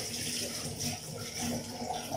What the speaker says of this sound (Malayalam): ഞാൻ ഇത്തിരി വെള്ളം ഇട്ടിട്ട്